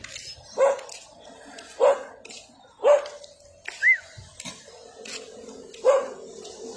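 A dog barks five times in a loose, uneven rhythm, each bark short and sharp at moderate distance, with faint background noise between.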